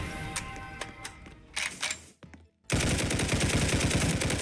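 Gunfire in the Roblox shooter game Hypershot: scattered single shots and short bursts, then after a brief lull a sustained rapid automatic volley, loud and close, with no voices.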